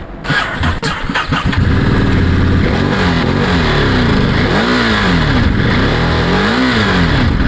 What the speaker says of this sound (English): let's fire it up